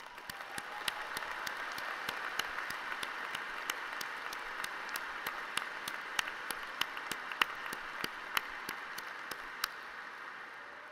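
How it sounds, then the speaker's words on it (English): A graduation-ceremony audience gives a round of applause for the mothers present, a steady, moderately distant wash of clapping with a few sharp individual claps standing out, sustained evenly throughout. "let's have again a round of applause for all the mothers here today"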